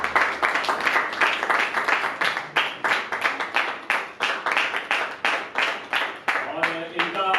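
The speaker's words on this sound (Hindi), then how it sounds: "एक बार जोरदार तालियां।" Audience at a theatre festival in India applauds strongly after a play ends and the actors are called onto the stage. The clapping is loud, dense and steady, and a voice speaks near the end.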